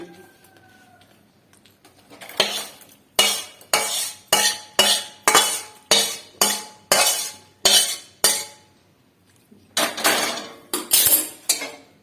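A metal spoon scrapes a pan of coriander leaf chutney as it comes off the stove: about ten loud, close, evenly spaced strokes, a short pause, then a few more quick scrapes, with no talking.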